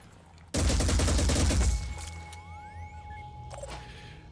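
Gunfire in the Phoenix Point strategy game: a loud, dense burst of rapid shots lasting about a second, followed by mechanical tones, sweeping electronic effects and a brief later clatter.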